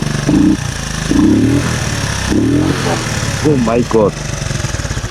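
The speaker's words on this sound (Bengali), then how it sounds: "পার্কিং স্টার্ট আপনারা হয়তো সাউন্ডটা শুনতে পাচ্ছেন" An old Honda CD 80, an 80 cc single-cylinder motorcycle, idles steadily nearby with an even putter while someone talks over it.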